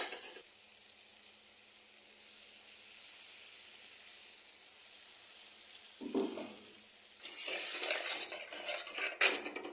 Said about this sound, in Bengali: গ্যাসটাকে একটু বাড়িয়ে দিয়ে এটাকে ভালো করে কষিয়ে নেব। এটাকে 2 থেকে 3 মিনিট এরকমভাবে নাড়তে হবে।